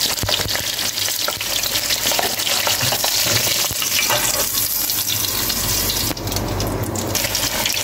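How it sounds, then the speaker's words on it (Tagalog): Red pepper sizzles and crackles steadily in hot oil, a dense continuous frying hiss up close with faint stirring, no voices. "Prito ang red pepper."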